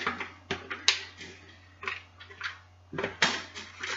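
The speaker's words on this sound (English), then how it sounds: "So I just dump it into a pan." A mixture being tipped into a pan, heard as a few faint, scattered clinks and scrapes of utensil against cookware spread across a quiet room.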